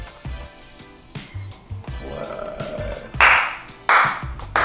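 A handful of slow, widely spaced claps after a Rubik's Cube magic trick, sharp and close, with a brief murmur of voices in the background.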